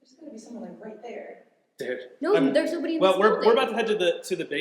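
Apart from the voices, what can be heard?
No distinct noise like a dog, phone or traffic.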